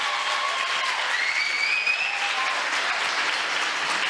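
Sustained, steady clapping from a professional conference audience fills the room evenly at moderate loudness, with a faint voice or whistle-like tones drifting above the crowd noise.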